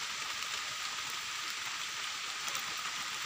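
Steady rain falls through a forest during mushroom foraging, a dense, even hiss of drops on leaves and ground that continues unbroken and close, with no voices.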